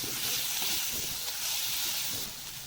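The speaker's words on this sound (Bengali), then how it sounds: "মশলাটা ভালো করে নাড়িয়ে বাদামি কালার করে ভেজে নিব।" Spices for chicken curry fry in a pan with a steady, close sizzling hiss that continues through the whole clip and eases slightly near the end.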